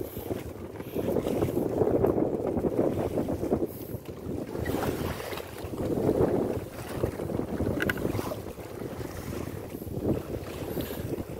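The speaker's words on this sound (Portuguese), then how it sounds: "hoje o vento tá uma delícia, o vento tá gostoso de se trabalhar aí" Steady wind rushes over a small jangada fishing boat roughly 15 km offshore on a calm sea, a continuous low, close rumble that swells and eases in slow gusts with no talk.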